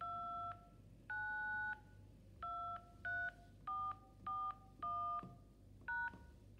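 Telephone keypad tones sound as an ID number is entered into an automated phone menu: about a dozen short, evenly loud DTMF beeps in an irregular rhythm over a faint steady hum, with no voices.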